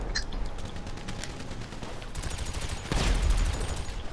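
Machine gun fire in the video game GTA 5: a sustained rattle of automatic shots over steady background noise, with a louder, denser burst near the end.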